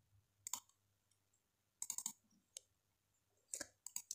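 Computer mouse clicks in Microsoft Excel, a few soft, sharp clicks in small clusters with quiet pauses between them, close to the microphone and faint overall.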